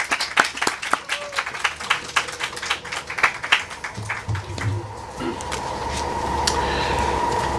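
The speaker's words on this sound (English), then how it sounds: "Please give him a warm round of applause." An audience applauds a federal Minister of Public Safety as he is introduced at a government announcement on gang violence prevention, a steady burst of many hands clapping that thins toward the end while a low murmur of voices continues.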